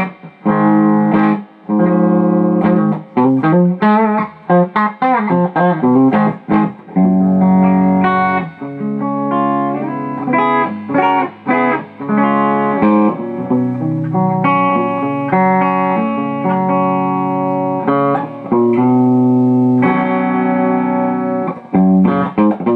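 A clean electric guitar, a 2015 Gibson Les Paul Junior with a Rio Grande Bluesdawg P-90 pickup, plays through a Fender Deluxe amp's clean channel, mixing chords and single-note runs with some ringing sustain, loud and close, no voices.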